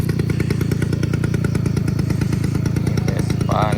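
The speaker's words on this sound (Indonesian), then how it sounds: "Ini Vespa nih." Several Vespa scooters run together close by on a road, a loud, steady buzzing two-stroke drone with rapid pulsing throughout, plus a brief higher whine near the end.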